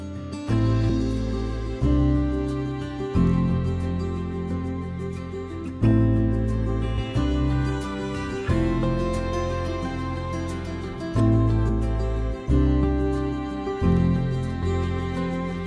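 An orchestral pop passage plays twice with a slightly different sound each time, steady bass pulses and rich layered chords, no voices.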